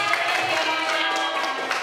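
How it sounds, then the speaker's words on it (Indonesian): Teachers at an elementary school in Sawangan applauding together, a steady, dense patter of clapping that fills the whole short moment at even loudness. "Tepuk tangannya."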